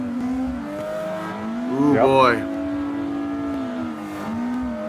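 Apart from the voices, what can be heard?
drifting race cars in Assetto Corsa, video game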